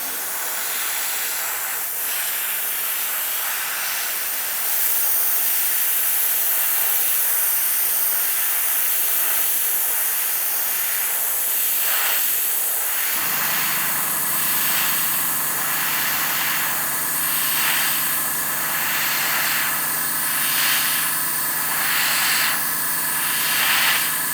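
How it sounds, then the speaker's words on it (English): A spray gun lays down another coat of chrome paint with a steady, loud, continuous hiss that runs unbroken throughout, with no talking. "Let's spray another layer."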